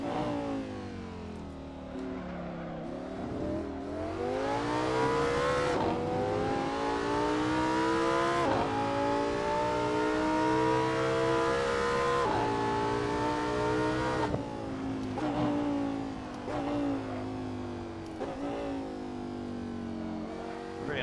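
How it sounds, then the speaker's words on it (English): A V10 race car engine in the racing game Assetto Corsa revs hard and shifts repeatedly, its loud, tonal wail climbing in pitch, dropping at each gear change, then climbing again, without any voices. "Pretty nice engine sounds, I've got to say. It's a V10"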